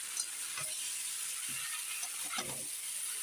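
Cauliflower, new potatoes and peas sautéing in a pan, a soft steady sizzle with a few brief scraping stirs, close by and fairly quiet, no voices.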